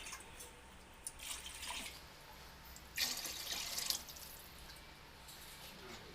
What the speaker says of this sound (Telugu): మగ్గిపోయిన తర్వాత వాటర్ పోసుకోవాలి